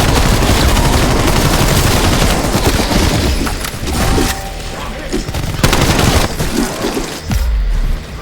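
Dense, loud bursts of SMG gunfire in a shooter video game, rattling almost continuously with brief breaks and a few heavier booms.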